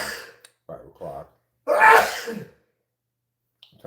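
A single loud, close sneeze bursts out from a person, preceded by a few soft breathy sounds and a short intake.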